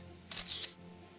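Camera shutter snapping a photo in Valkyria Chronicles 2, a short crisp double click over a quiet background hum.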